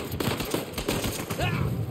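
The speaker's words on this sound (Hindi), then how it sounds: "ये तो क्या गोलियां कहां से आ रही मेरे को?" Gunfire in Uncharted 4: A Thief's End, a dense fusillade of rapid shots and bursts crackling steadily for about two seconds, loud and continuous.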